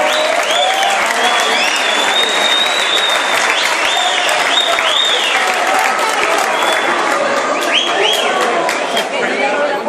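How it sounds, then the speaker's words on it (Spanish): Crowd at the Gamepolis 2013 convention applauding loudly and continuously before a prize draw, dense close clapping with whistles and cheers on top and chatter mixed underneath. "Un aplauso para Natalia."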